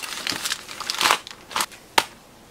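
Plastic bubble wrap packaging crinkles and crackles up close in a series of uneven rustling bursts, ending with a sharp crisp snap.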